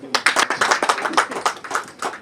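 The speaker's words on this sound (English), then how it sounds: "I think they deserve a clap" A few people clap at an official tree-planting ceremony, distinct close hand claps in an uneven, sparse rhythm rather than full applause.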